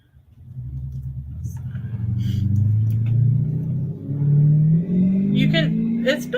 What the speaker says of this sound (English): it's been like a drag race outside today.